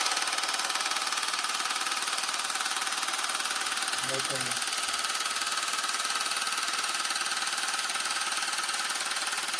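GAINSWave at-home acoustic wave device running loudly, a harsh, steady mechanical buzz with rapid pulsing that holds at constant loudness for nearly ten seconds, with a brief spoken word partway through.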